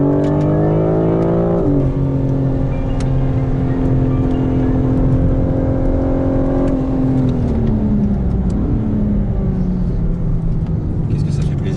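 A BMW M4 CSL on a trackday at Le Mans, its engine droning loud and close from inside the car with steady pitch shifts through gear changes, while occupants talk over it.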